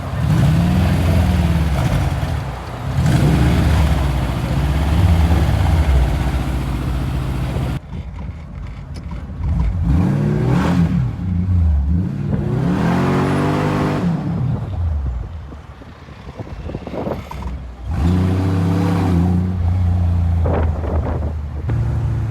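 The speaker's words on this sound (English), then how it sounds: "The first thing to say about riding in this car around Bangkok" A Ferrari 330 P4 replica's engine drones and revs repeatedly while driving around Bangkok, rising and falling in pitch, with wind buffeting the microphone throughout.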